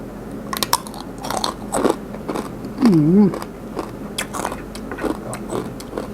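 Crispy Thai pork crackling in large pieces, dipped in fermented fish sauce, gets bitten into with a few sharp close crunches followed by chewing, and a short hum of approval is heard.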